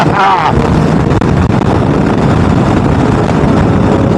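Loud, rough Kawasaki Z900RS motorcycle engine roar through a Delkevic full exhaust system, close and unrelenting, with a gravelly low-end rumble and a brief rev burst at the start.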